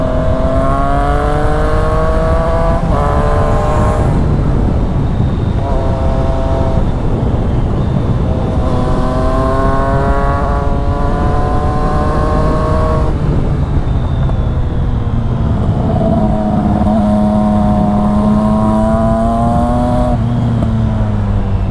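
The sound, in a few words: Triumph Street Triple 660S motorcycle riding on road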